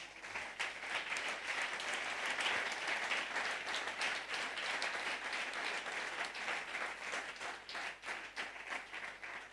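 A church congregation claps and cheers in praise of the Lord, a dense, steady wash of applause filling the room for the whole stretch, with no voice rising above it.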